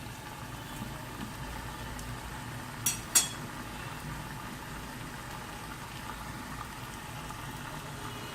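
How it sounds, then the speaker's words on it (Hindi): A fried potato basket goes back into hot oil, giving a steady low bubbling hiss throughout, broken near the middle by a couple of brief metallic clinks. "बट मुझे इसका कलर और डार्क ब्राउन चाहिए तो मैं इसे अगेन फ्राई होने के लिए इसमें डाल रही हूँ"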